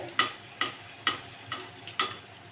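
A flour, potato and egg snack frying in hot oil, heard as faint sizzling broken by five evenly spaced sharp ticking taps, roughly every half second.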